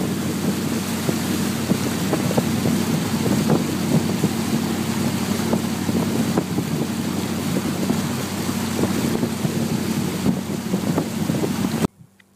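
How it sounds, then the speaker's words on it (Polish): A motorboat runs steadily across open water on a fishing trip, heading back to port in worsening weather, its engine drone loud and constant with wind buffeting the microphone, then cutting off abruptly near the end. "Trochę popływaliśmy tą łódką, fajnie śmigała, nie powiem."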